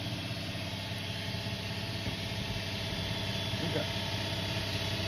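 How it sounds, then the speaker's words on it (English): An air compressor in a DIY home workshop runs steadily as a loud, constant engine-like drone with heavy low rumble, filling the whole stretch with no pauses. "Sorry, it's a little loud. My compressor is kicked on."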